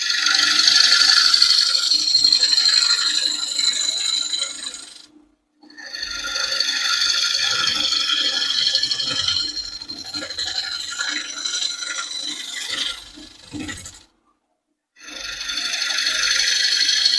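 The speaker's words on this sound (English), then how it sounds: "Kind of using a scraping motion here." Tool scraping a wooden bowl on a lathe, a bright raspy hiss moving back and forth in sustained passes, broken by two short silent gaps, close and fairly loud.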